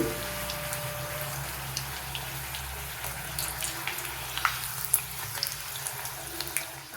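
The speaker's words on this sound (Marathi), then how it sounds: "हे बघा मी आता 1 तुकडा तेलामध्ये टाकलेला आहे" Pieces of leftover chapati fry in hot oil in a pan, giving a soft, steady sizzle with scattered small crackles and pops, close and fairly quiet.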